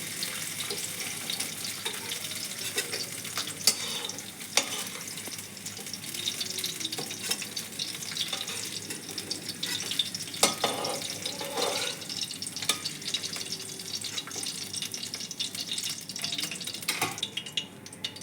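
Light sizzling of ingredients being gently fried in a pan for matar paneer, a steady crackling hiss throughout with occasional sharper pops and scraping stirs.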